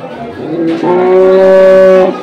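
A dairy cow at a livestock market in Kaharol, Dinajpur, gives one loud, close, drawn-out moo lasting nearly two seconds.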